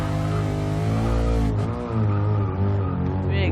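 A Lexus IS F V8 in a racing game roars under hard throttle, a rich, loud engine note climbing in pitch, dipping briefly at a shift, then pulling again.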